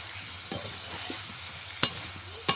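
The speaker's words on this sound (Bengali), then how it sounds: "এদিকে আমি মাছ ভাজা চাপিয়ে দিয়েছি মাছটা ভাজা হয়ে যাক" Pieces of rohu fish fry in a pan with a soft, low sizzle, broken by a few sharp clinks of a utensil against the pan.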